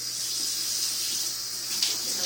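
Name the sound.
sandwich wrap being washed in water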